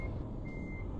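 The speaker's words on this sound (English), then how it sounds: "Now you're gonna hear backup beepers and things you wouldn't normally hear" Truck reversing beepers in Euro Truck Simulator, a steady high electronic beep sounding twice over a loud low diesel rumble, with no voices.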